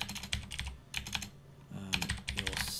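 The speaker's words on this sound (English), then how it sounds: "if I type the command qgrok" Quick bursts of keystrokes on a computer keyboard, entering a command in short clustered runs with brief pauses, close and fairly quiet, with no talk.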